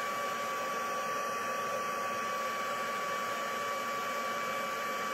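A heat gun blows steadily with a constant airy roar and a thin high whine, unbroken throughout.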